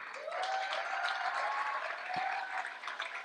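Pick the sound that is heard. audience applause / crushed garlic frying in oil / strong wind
audience applause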